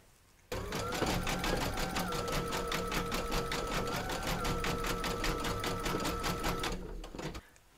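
An embroidery sewing machine stitches out a shape in pink thread with a fast, even, rapid-fire needle rhythm. It sits close and clear, starting suddenly, running steadily for several seconds, then stopping.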